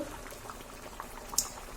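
Fish and pumpkin curry bubbling in a wok, with soft, continuous low simmering and a few faint pops, quiet and close, with no talking.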